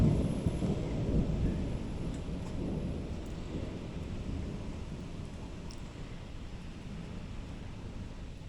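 Deep rolling thunder rumbles over a steady wash of rain, loudest at first and slowly easing off.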